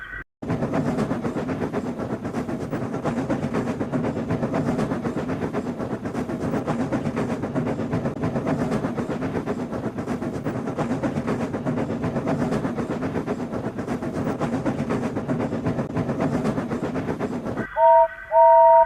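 A steam train rumbles steadily along the rails pushing a long line of tankers, with a rhythmic clatter for a long stretch, ending in a sharp whistle blast.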